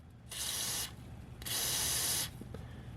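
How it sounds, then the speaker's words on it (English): Two bursts of aerosol spray wax hiss out onto an MTD snowblower's pivot points, a short one followed by a longer one, with quiet pauses around them. "Let me get my spray wax and we'll get a couple of spots."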